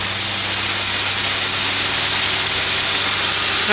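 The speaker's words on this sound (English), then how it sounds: "now I'll turn the engine back on, bring the power in" A Piper Cub light airplane engine runs steadily in flight after a restart, a loud continuous drone with power building slightly toward the end.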